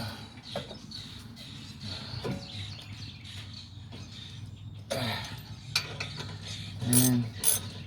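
Ratchet spinning caliper bracket bolts off on a 2008 Dodge Ram 1500 SLT, with close, rapid pawl clicking in several bursts and a few sharp metallic knocks, no talk.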